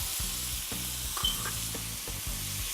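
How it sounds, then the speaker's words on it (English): Brown rice is stirred in a pot of boiling water, a series of rhythmic low scraping strokes repeating over a steady hiss, close by with no speech. "And just stir it."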